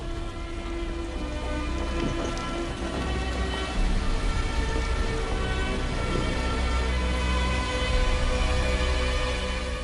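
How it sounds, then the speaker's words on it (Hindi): Heavy rain pours steadily with rumbling thunder in a dramatic movie storm effect, dense and loud throughout. "ये कैसा तूफान आया है?"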